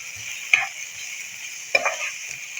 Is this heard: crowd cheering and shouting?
no